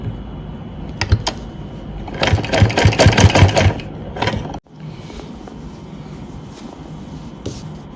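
A sewing machine stitches pleats into a salwar in close, loud bursts of rapid mechanical chatter, with quieter handling noise before and after.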